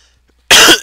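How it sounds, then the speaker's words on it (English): One sharp, loud cough bursts out suddenly after near silence and lasts under half a second, close to the microphone. "I tried to like lean away to cough, but the mic goes with my head"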